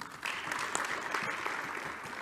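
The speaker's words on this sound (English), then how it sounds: "let's clap hands for that" At a football confederation press briefing, the audience claps steadily, with a soft, dense patter of many hands that sounds distant and low in level throughout.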